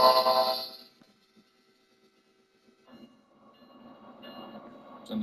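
A train runs in a video game, with a brief loud burst at the start, near silence, then a low rumbling run of the train building gradually and closing with a sharper sound.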